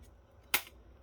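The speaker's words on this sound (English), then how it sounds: "All these flat flex cables are soldered on. So we'll just rip that off, maybe." A soldered flat flex cable is ripped off a dead Sony MFP920 (Dell UH650) 3.5-inch floppy drive during a teardown, giving one sharp, brief tearing snap up close against an otherwise quiet background.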